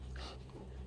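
A dog whimpers softly and briefly at close range, a faint whine with breathy panting around it in a quiet farmyard setting with goats nearby.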